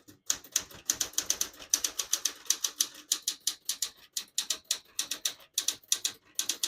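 Keys clatter on a 1966 Smith-Corona Super Sterling portable typewriter, a steady run of sharp, close strikes in a brisk, slightly uneven rhythm with short pauses, heard alone.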